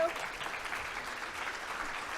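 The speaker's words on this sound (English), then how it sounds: "help me give Krista a big round of applause and a thank you" A steady burst of audience applause, dense clapping from many hands throughout the short stretch.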